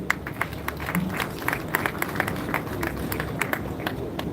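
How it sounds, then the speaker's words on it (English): An audience at an awards night claps in a light, steady patter for a speaker, the scattered claps spread evenly through the room against a constant background hum. "please help me do a big round of applause for Mr."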